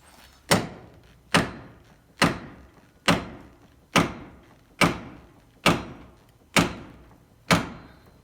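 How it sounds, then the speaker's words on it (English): A hammer strikes wooden roof pieces on a stair scaffold at a fortified church. There are ten evenly spaced, sharp knocks, each with a short ringing decay. "Now it's time for my Mjolnir hammer, because if I knock on that too hard, I can chip the edge off it."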